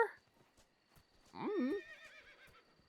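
In the video game Metal Gear Solid Delta: Snake Eater, a horse gives a single clear, fairly close whinny that rises and wavers, over quiet ambient noise.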